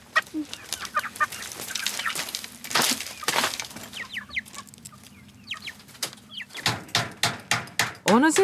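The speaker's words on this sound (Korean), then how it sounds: "지난 장터에서 닭을 사왔기 때문입니다." Chickens bought at a market cluck and squawk in short repeated bursts on a small island homestead, fairly close, with outdoor background noise and some voices around them.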